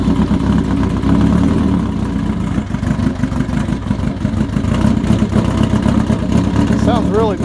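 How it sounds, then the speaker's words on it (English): A 1982 Honda CB900F cafe motorcycle engine running cold just after starting, a loud, close, steady rumble with slight revving throughout the clip. "This is cold starting right here"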